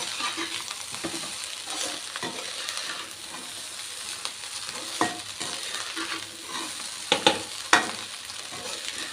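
Chicken fried rice stir-fried in a pan: steady broadband sizzle with intermittent scraping and stirring strokes, a few sharper clatters of the utensil near the end, close and moderately loud with no talking.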